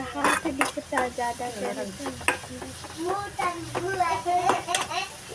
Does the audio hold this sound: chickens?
no